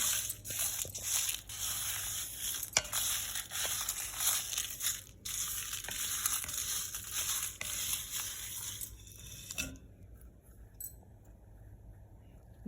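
Fenugreek, coriander seeds and dry red chillies being dry-roasted in a pan, giving a steady crackling, rustling patter with scattered clinks for most of the stretch before it drops away to near quiet near the end.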